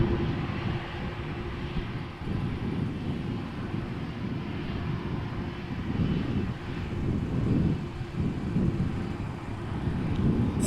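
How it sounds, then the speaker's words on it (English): A brand-new Airbus A330neo, a Delta Air Lines flight bound for New York JFK, roars steadily at Amsterdam Schiphol Airport, its broad jet engine rumble swelling and easing over ten seconds beneath light wind noise. "Delta Airlines flight 49 going to New York JFK. A330 Neo, brand new, less than a year old."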